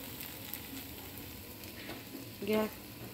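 Okra bhaji fries in a pan while being stirred, giving a soft continuous sizzle with a scrape near the end, close and quiet, with no talk.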